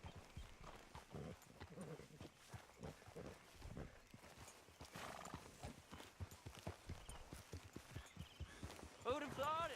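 Steady hoof clip-clops of a horse walking, with speech over much of it and a horse whinny near the end, in a Red Dead Redemption 2 game soundscape.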